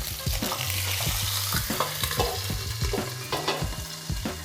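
Chicken sizzles and crackles steadily in a hot pan, with repeated scraping and clinking as it is stirred.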